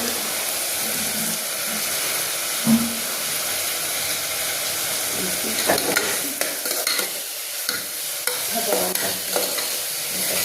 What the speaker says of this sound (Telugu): అక్కడ ఉల్లిగడ్డ పేస్ట్ వేసిన